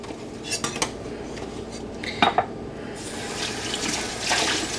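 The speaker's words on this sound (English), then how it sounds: "I said I wasn't going to do dishes, and here we are." Dishes and cutlery being washed at a kitchen sink under running tap water, with intermittent clinks and clatters of utensils over a steady close water stream.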